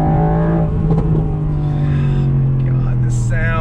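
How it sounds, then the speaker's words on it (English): A 2020 Mercedes-AMG GT R's twin-turbo V8 revs and pulls hard, with pops and bangs, shifting pitch and a brief high whine, while a person talks excitedly over it. "The pops, the bangs, this is something, oh my God, that V8 twin turbocharged"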